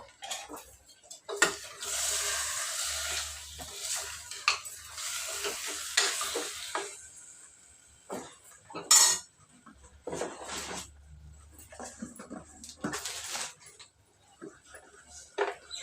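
Mutton keema being stirred in a pan after chili powder goes in, with a steady sizzle and a spoon scraping and clinking against the pan in bursts, close up, with no talking.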